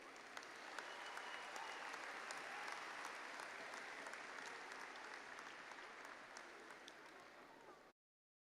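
Sustained applause from a large crowd at a graduation ceremony, many hands clapping steadily and fairly distant, fading slightly before cutting off abruptly.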